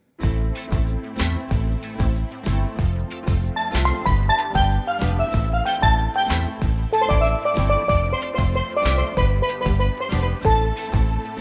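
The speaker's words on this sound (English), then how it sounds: "And then I can actually add the arpeggio into the lower voices right here." Ketron Audya synth keyboard music with a steady pulsing bass and chords, while a rising and falling arpeggio pattern runs through the lower voices, continuous and fairly loud.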